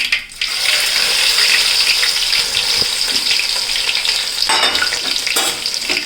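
Garlic frying in hot oil after mustard seeds have spluttered, for a Kerala-style rambutan pickle: a close, loud, steady hiss and crackle with no break, ending in a few brighter pops.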